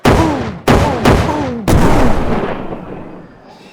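Four big boom sound effects hit in quick succession, each a sharp, loud blast like artillery fire with a rumbling tail, the last one decaying slowly into quiet.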